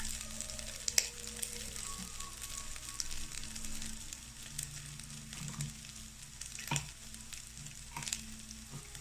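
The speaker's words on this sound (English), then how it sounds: "So the oil has heated up, and I've added some ginger in there." Ginger sizzles in hot oil in a pan, a steady soft frying hiss with occasional light stirring clicks, close and fairly quiet, no voices.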